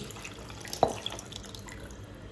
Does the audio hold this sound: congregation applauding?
no